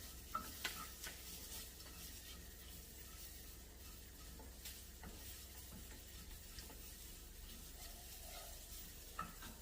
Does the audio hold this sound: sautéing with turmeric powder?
yes